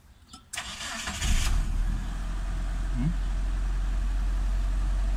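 Mitsubishi Adventure engine revving after a rough start, then settling into a steady high idle with a constant low drone; a short burst of hiss and clatter comes early, and people talk faintly in the background.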